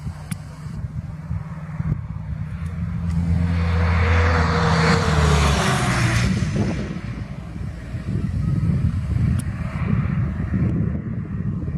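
A powerful Boeing 747 passes extremely low over the runway, its jet engine roar swelling to a broad loud peak mid-pass and then fading back into a rougher rumbling background.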